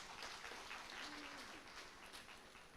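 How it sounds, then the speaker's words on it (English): An audience claps together at the inauguration ceremony of a regional energy efficiency conference, a sustained, fairly faint wash of applause heard from within the room. "Let's continue to clap our hands."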